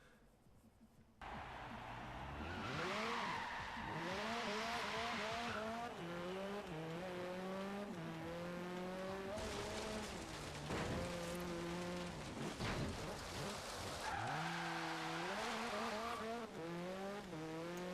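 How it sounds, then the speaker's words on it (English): A Porsche driven in Forza Horizon 3 revs and shifts repeatedly, its engine note climbing and dropping through the gears with brief tire noise, loud and continuous with no talking. "Let's go drive this around, see how it acts."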